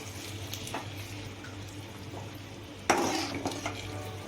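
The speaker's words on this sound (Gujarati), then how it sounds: "મિક્સ કરી નાખવાનું" A spoon stirs milk into a potato and sweet potato sheera in a pan, giving soft scraping and a sharp clink of metal partway through, under a low steady hum.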